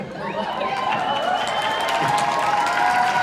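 An audience claps and cheers at a Utah fan Q&A with Harry Potter actor Oliver Phelps, a dense, continuous wash of applause that holds steady and builds slightly, with no clear talk over it.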